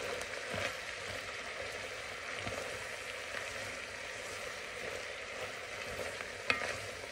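Chopped onion fries in a single soup pot for Zuppa Toscana, a steady, close sizzle that holds without pause, with an occasional faint clink.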